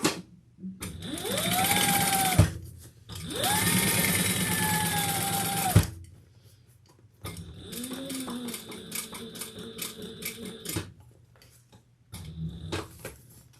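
A sewing machine runs a seam on a sling pack at the flatbed, in long steady bursts of stitching, close and fairly loud, with brief pauses between runs and a slower, lighter run near the end.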